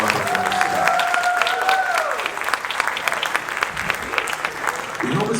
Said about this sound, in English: Let's have one more round of applause for all presenters and all of our performers today